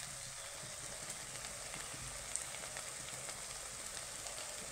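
Spice paste with turmeric sizzles and fries in oil in a pan, a steady soft crackling hiss heard close and alone.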